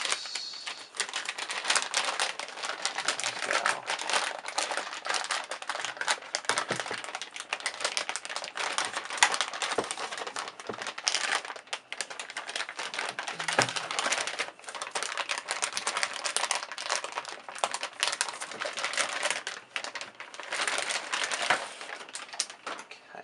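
Packaging crinkles and crackles while an EVGA GeForce GTX 670 FTW graphics card is unboxed. Dense, irregular clicks and rustles run nearly continuously for over twenty seconds, close and with no speech.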